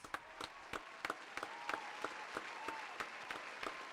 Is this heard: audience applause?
yes